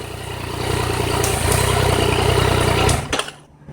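A Yamaha FJ-09 motorcycle engine idles with a steady lumpy beat after a throttle body sync, swelling slightly as it's revved, then cutting out near the end.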